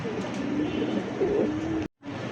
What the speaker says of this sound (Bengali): এই মুহূর্তে চেক দেখছেন, মাক্সি চেকের মধ্যে খুব সুন্দর একজোড়া কবুতর